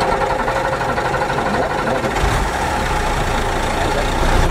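A Unimog truck engine runs steadily and loud up close, a rough, continuous mechanical drone holding level as the gas lever is worked, with a slight rise toward the end and no clear speech over it.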